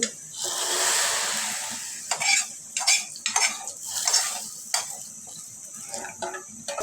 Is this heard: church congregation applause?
no